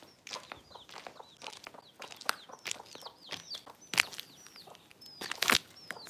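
A chicken clucks close by in a series of short, sharp chirps and clucks mixed with scratchy thumps and rustling, with no one talking.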